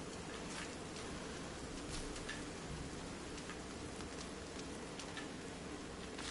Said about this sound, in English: It sounds like it's raining hard.